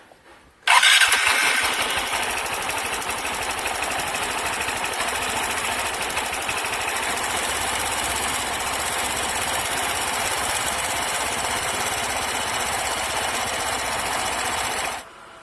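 An Aprilia SR 150 scooter engine fires up after a home carburetor cleaning, catching abruptly and settling into a loud, steady, close idle that runs unbroken for about fourteen seconds.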